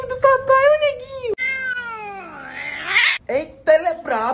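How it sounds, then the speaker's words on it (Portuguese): A house cat meows loudly and repeatedly at close range, drawn-out wavering cries with short breaks between them, while no one talks over it. "Esse gato aqui é seu, é?"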